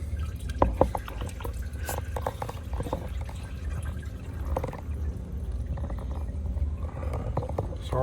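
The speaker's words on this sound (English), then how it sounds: "Leaking from there. Pouring out from there." Coolant drips and splatters from a leaking machine in a workshop, irregular wet drops and trickles over a low rumbling hum.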